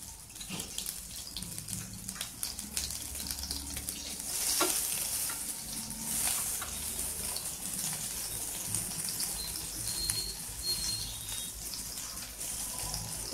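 Butter melting and sizzling in a kadai over a gas flame, a steady broadband crackle with a few brief louder bursts and light scraping, close and continuous with no talking.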